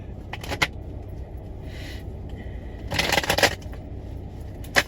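Cards being shuffled, with quick riffling bursts and a longer louder riffle near the middle, over a low steady background hum.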